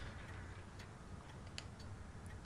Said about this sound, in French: On entend des tic-tac.